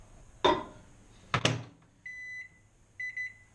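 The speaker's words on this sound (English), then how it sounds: "So these go in the microwave." A loud clunk and a door slam, followed by a few short electronic beeps as a microwave is set, all fairly close with no talking.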